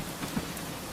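Soft rain falls steadily at night, a faint, even patter with a couple of brief drip-like taps, distant and unbroken, no voices.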